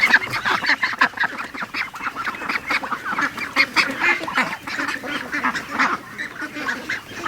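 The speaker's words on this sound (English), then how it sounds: "Oh, poor little duck." Several ducks quack and honk in a busy, continuous chatter outdoors near a feeder, overlapping calls at steady loud volume throughout with no pauses.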